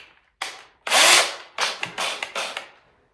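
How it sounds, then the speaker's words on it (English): A power drill drives a screw into a wood brace in short bursts: a brief whir, a longer sustained spin, then several quick stuttering pulses, close and loud with quiet gaps between. "to drill the screw straight into the wood brace."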